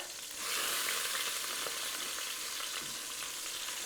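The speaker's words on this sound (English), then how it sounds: "I'm gonna flip the tenderloins over." Pork tenderloins searing in a slow cooker pot after being flipped: a steady, fairly faint hiss of frying that rises slightly as the meat hits the hot surface and then holds even.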